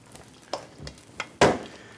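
Browned garlic being mixed into a stuffing for a stuffed pumpkin, heard as a few soft scrapes and taps of a utensil in a bowl, ending in one louder scraping stroke.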